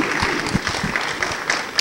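Audience applause rings out at a festival microtalk session, a dense, steady wash of many hands clapping from a crowd, loud and continuous with faint speech underneath.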